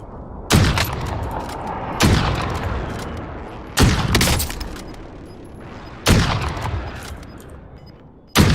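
Gunfire from the Call of Duty Warzone LW3 sniper rifle: four loud, sharp single shots spaced about two seconds apart, each followed by a long decaying rumble, with no talking.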